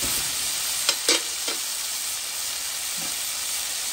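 Rougail boudin noir sauce simmers gently in a pot, giving a steady, even sizzle and hiss with a few faint knocks from stirring or utensils.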